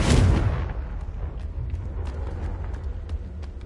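A heavy blasting-spell explosion in the Hogwarts Legacy video game, a loud deep boom that opens the moment and then decays into a rumbling tail with faint scattered clicks.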